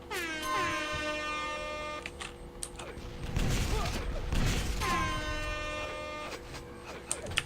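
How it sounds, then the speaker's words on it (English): Air horns in a video game demo blare twice with loud, descending-pitch honks that bracket a noisier mechanical stretch in the middle. "I wonder if it's because of just the air horns"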